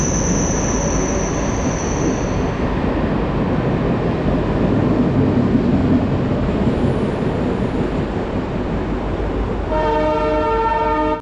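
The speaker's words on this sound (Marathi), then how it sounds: "ट्रेन आली।" A train pulls into Dadar railway station, a loud steady rumble of wheels on rails with squealing and a horn-like tonal blast near the end, no talk.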